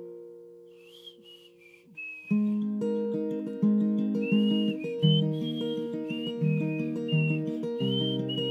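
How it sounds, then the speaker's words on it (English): A person whistles a melody, thin and clear, first alone and then over a backing of sustained chords, moderately loud with no talk. "Sorry for my shitty whistling"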